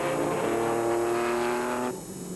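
A Porsche 944 2.5 litre race car in a Porsche Club championship race howls past, its engine note held high and then cutting off sharply after about two seconds, loud and alone.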